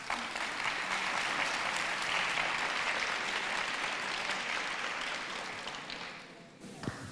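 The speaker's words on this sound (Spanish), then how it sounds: "por favor, recibámoslos con un aplauso." Audience applause at a panel event on alternative art, journalism and activism, a dense sustained clapping from a crowd that fades out toward the end.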